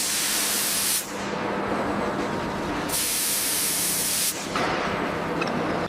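Bare engine block from a 1937 Bugatti Type 57SC Atlantic restoration, steaming after hot-tank cleaning: loud, continuous hiss and spray in repeated bursts with brief dips between them, heard alone.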